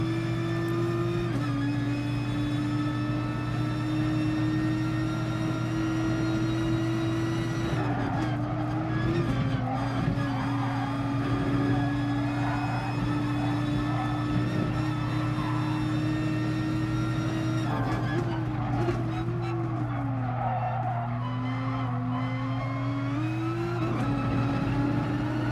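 Nissan GT-R race car in GT Sport, its engine droning loud and steady throughout with pitch rising and dipping through gear changes and corners, a faint voice briefly heard beneath.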